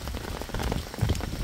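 Heavy rain pours down steadily at a campsite in Tagaytay, a dense patter of drops hitting a surface up close, with no voices.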